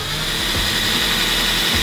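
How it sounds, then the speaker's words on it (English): A power drill bores holes into the trunk lid of a BMW M4 Competition, giving a steady, loud, continuous whine and rumble that holds for the whole stretch with no talking. "Let's go ahead and drill some holes in this M4 competition trunk."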